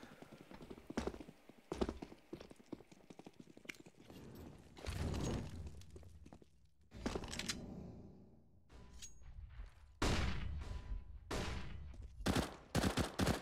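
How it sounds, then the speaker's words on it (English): Rapid gunfire from AK rifles and Desert Eagle pistols in a Counter-Strike professional match on the Overpass map, with clustered bursts and single sharp shots at close range, several loud volleys spread across the clip without talk. "So the AK is in from CyberZen."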